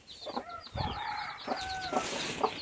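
Medak breed chickens cluck steadily on a farm, with soft, repeated calls and a few higher rooster-like notes rising and falling close by across the whole stretch.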